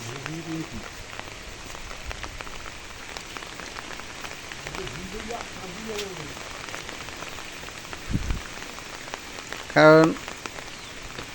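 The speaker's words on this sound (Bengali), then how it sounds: "বৃষ্টি এখনও পড়তেছে" Steady rain patters outdoors on a street and nearby surfaces, a soft even hiss that lasts throughout, with faint voices and a brief louder sound near the end.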